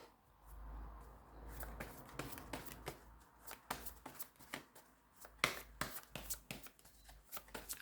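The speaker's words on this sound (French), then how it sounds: "Je vais tirer 2 cartes pour les énergies cancer avril" Tarot cards being shuffled and drawn by hand for a reading, a close run of quick papery riffles and soft slaps with irregular rhythm, with no speech.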